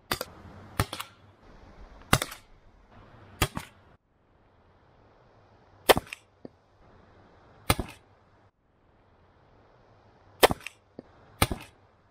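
Eight sharp, snappy shots ring out at irregular intervals from an Umarex HDB 68 compressed-gas rifle, each a crisp crack with a short mechanical click, in a quiet room.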